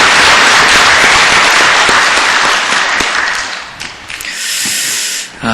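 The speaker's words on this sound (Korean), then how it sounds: "여러분, 박수로 우리가 동의하는 마음을 좀 표현했으면 좋겠습니다." A church congregation at Bundang Samsung Church breaks into dense, loud applause that fills the room, a continuous wash of many hands that thins and softens toward the end.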